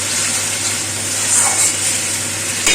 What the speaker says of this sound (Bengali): এখন মোটামুটি মশলা কষানোটা হয়ে গেছে, এই যে তেলটা উপরে চলে এসছে